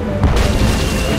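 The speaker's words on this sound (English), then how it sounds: "it's one of those spiffy new Hungarian easy-action cannons I've been begging Elaine to let me buy" A cannon fires a cannonball in the Tales of Monkey Island video game, a Hungarian easy-action cannon giving one loud, close, low boom with a short rumbling tail and no talk.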